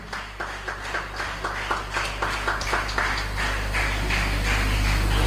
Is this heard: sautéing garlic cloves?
no